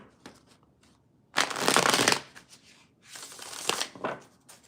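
A deck of tarot cards gets two close, crisp riffle shuffles, each a dense papery burst lasting about a second, with light card handling between them.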